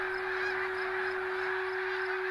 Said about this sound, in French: ce sont les outardes ou les bernaches